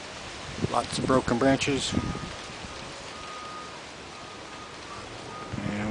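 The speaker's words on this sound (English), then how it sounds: "We've had a nice windstorm here in San Diego the past night or so. Still going on." A San Diego windstorm gusts through an avocado tree, making a soft, continuous rushing and leafy rustle under a man's speech at the start and again at the end.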